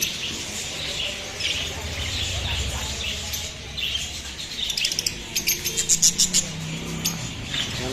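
Rainbow budgerigars and doves at a busy bird market give bright, quick chirps over a steady crowd din. A run of sharper, rapid tweets rises near the end.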